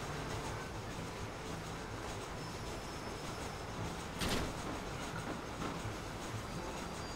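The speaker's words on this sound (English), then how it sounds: "I'll break the train." A train in the Red Dead Redemption video game on Xbox 360 rumbles along steadily, a continuous mid-loud rolling rush with a brief sharp clack partway through, no talk over it.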